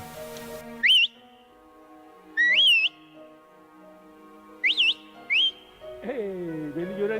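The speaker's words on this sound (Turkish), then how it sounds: "Bir ıslık çalayım bakalım çıkacak var mı?" A person whistles in short rising-and-falling bursts, four phrases with pauses between, sharp and close, calling a dog among yellow pines near a mountain house, over a low background hum.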